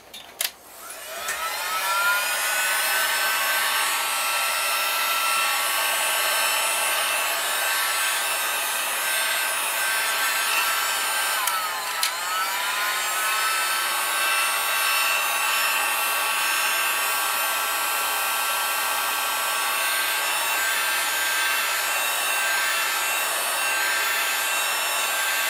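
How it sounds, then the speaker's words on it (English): A blow dryer drying paint runs steadily for a long stretch, a constant loud whirring hum with a brief shift in pitch partway through. "I will take a blow dryer and we'll see if we can dry this up quick"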